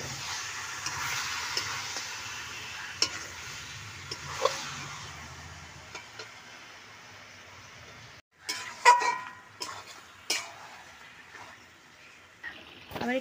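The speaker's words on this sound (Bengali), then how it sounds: "ঢাকনাটা খুলে আবার ভালো করে নাড়িয়ে নিচ্ছি।" Chicken curry stirred in a pan with a spoon, a soft sizzle and hiss broken by a few scraping clicks, then a pause and louder clattering scrapes.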